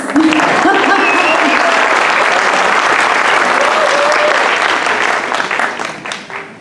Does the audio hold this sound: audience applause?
yes